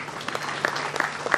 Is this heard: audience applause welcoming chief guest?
yes